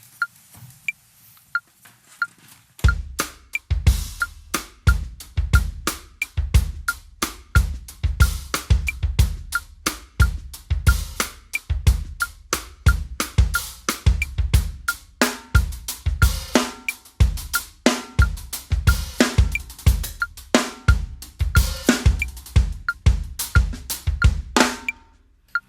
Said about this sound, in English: you try to listen to the click and think of it as the offbeat.